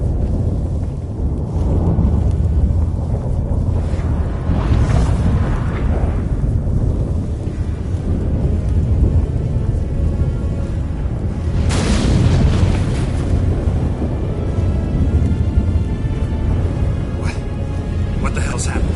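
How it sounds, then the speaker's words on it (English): A violent storm rages in The Witcher on PS5: a loud, continuous roar of wind and rain fills the scene, with heavy rumbling thunder bursts swelling around the middle and near the end. "That a storm?"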